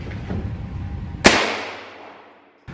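A single sharp gunshot from a Stribog carbine hits a cheap wish.com steel body-armor plate. It is loud and close, with a crack followed by a ringing decay that fades over about a second, and low rumbling background noise runs before it.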